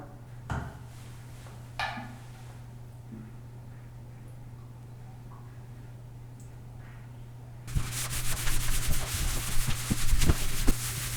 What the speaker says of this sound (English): Now I'm going to wipe down the surface with acetone to remove any film, grime, before primer.